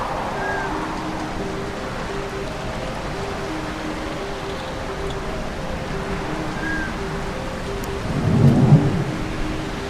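Steady heavy rain pours throughout a stormy scene in the Retropolis VR game, with a low rumble of thunder swelling near the end; no talking.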